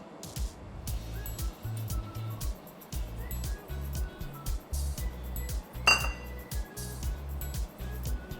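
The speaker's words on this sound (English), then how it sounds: "You can put the icing sugar, all of it in, and just mix everything until it's well combined." Cream cheese and icing sugar being mixed in a bowl for carrot cake cream cheese cookies, heard as repeated rhythmic knocks and light clinks of a utensil against the bowl, close and fairly quiet.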